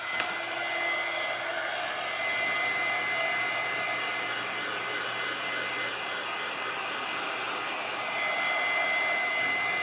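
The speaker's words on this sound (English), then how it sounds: "I'm going to hit it with our little heat tool." Small heat tool blowing steadily over a freshly painted primitive Halloween centerpiece craft, a continuous close airy whoosh with a faint whine, running unbroken and alone.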